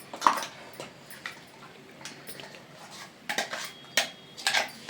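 Ground masala scraped into a pressure cooker of chole with potatoes, heard as a string of close metallic spoon clinks and scrapes against the pot in irregular bursts, no talking.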